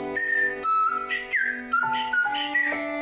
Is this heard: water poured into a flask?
no